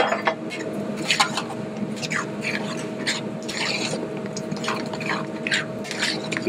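Chopped vegetables going into a pot of simmering bolognese sauce, with scattered clinks of utensil on metal and soft wet squelching and stirring under a steady background hum, close and moderately loud.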